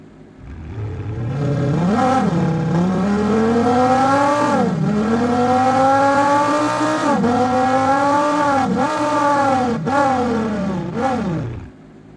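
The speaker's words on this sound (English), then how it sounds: "we're going to start the engine now and control the revs that you'll see moving from left to right" A sound-designed car engine revs up and down through several gear changes, each shift marked by a dip and renewed climb in pitch, loud and close throughout with no talk.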